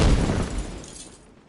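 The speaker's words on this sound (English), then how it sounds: "Big explosion up at the church." A big explosion goes off at a church in a military shooter game, a loud, close boom that rumbles and slowly fades out over about a second and a half, with no voices.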